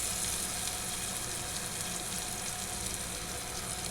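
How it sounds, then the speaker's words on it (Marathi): Chopped onion and tomato fry in hot oil for a tempering, giving a soft, continuous sizzle and hiss that stays quiet and steady. "इथे फोडणीला घातलं आहे कांदा टोमॅटो मस्तपैकी तेलावरती परतून घ्यायचा."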